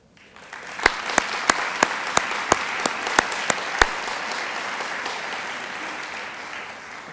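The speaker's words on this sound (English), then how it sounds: "if you would please stand so we can give you a warm round of applause as well" Audience applause at a school district awards ceremony held at a college, honoring sponsors: steady crowd clapping with sharp individual claps standing out in the first few seconds, then a dense sustained wash that continues to the end.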